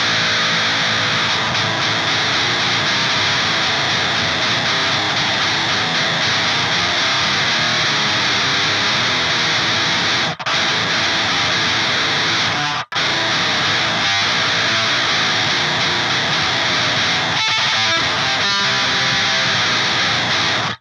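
Heavily distorted electric guitar through a Boss Metal Zone distortion pedal plays continuously at high volume, thick and saturated, with two brief dropouts midway.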